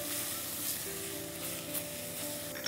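A steady close sizzle from chopped onion frying in a pan for keema samosa stuffing, with a faint low hum underneath and no talk.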